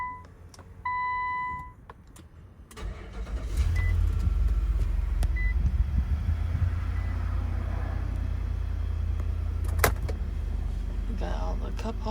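A 2021 Infiniti QX80 with 76,217 miles chimes a few times, then its engine starts and settles into a steady low idle heard from inside the cabin.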